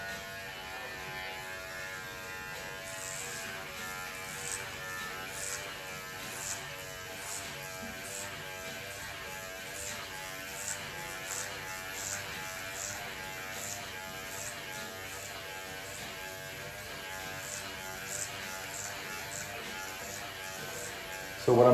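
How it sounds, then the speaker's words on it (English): A Self-Cut System Lambo hair clipper fitted with a number 4 guard buzzes steadily and closely throughout a self-cut skin fade, a continuous electric hum with slight fluctuations as it moves through hair. "what I'm using right now is I'm using the Self-Cut System Lambo Clipper"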